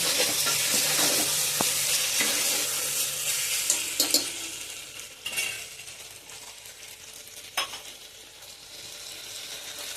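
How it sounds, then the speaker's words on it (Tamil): Two large tomatoes frying in a pan for mutton gravy, a steady close sizzle broken by stirring scrapes and occasional clinks of a spoon against the pan, gradually softening toward the end. "தக்காளி நல்லா ஸ்மாஷ் ஆகிற வரைக்கும் அப்படியே கொஞ்சம் ஃப்ரை பண்ணிக்கோங்க"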